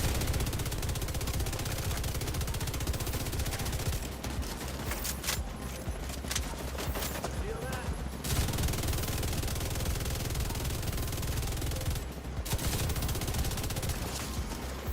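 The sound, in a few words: light machine gun firing in The Division 2 video game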